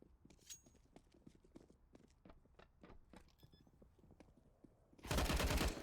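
Counter-Strike gunfire on the Overpass map during a competitive match, rapid bursts of shots and footsteps at moderate distance, ending in a loud, dense burst of noise.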